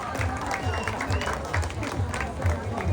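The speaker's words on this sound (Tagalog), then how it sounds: "Sabay-sabay ho nating palakpakan at hiyawan ang pinabatang version ni Miss Kim Domingo." A crowd at a pageant national costume showcase applauds and cheers for Kim Domingo, a dense, continuous roar of clapping and shouts with a loud voice carrying over it.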